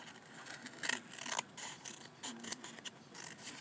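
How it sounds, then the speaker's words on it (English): Ordinary scissors snipping through paper for craft ornaments, a run of quiet, close, irregular crisp cuts and clicks with no voices. "then you do your cutting out. Just a regular old scissors"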